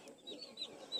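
Chickens on a farm make a few faint, short clucks in quick succession against a quiet background, with no talk.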